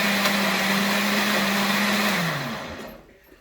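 A blender running at low speed blends walnut pesto, a loud, steady motor whir with a sustained hum that slides down in pitch and fades as the machine winds down.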